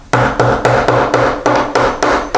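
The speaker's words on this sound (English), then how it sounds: "we're going to come in here with a regular flathead screwdriver and a hammer, and we're going to come underneath the pin right here" A hammer striking a regular flathead screwdriver to knock a hinge pin upward on a door, eight loud, close metallic taps in a steady rhythm with no talk.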